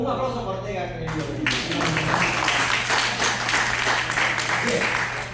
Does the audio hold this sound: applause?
yes